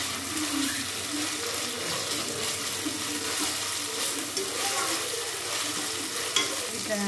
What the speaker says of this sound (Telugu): కొంచెం అల్లం వెల్లుల్లి పేస్ట్ పచ్చివాసన పోయే వరకు వేయించుకోవాలి